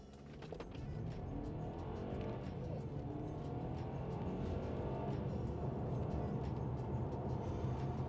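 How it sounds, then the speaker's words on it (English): A Mercedes C200 AMG Line estate launches hard from a standstill, its engine building into a loud, steady roar that holds close and continuous throughout, with no talking. "So I'm going to launch this with my non-specialist timing gear and see if I can get a feel for how fast this is."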